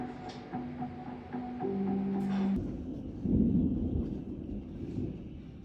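Thunder from a storm rolling in on a rainy Saturday morning, a low distant rumble that swells midway and lingers over a steady background hum.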